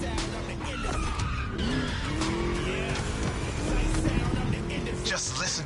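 A V8 race car in the video game The Crew Motorfest revs hard through a lap, engine pitch climbing and falling between shifts, with tires squealing and skidding through corners, loud and close.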